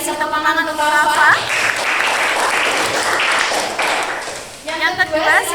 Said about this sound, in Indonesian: Boleh kasih tepuk tangan untuk Rafa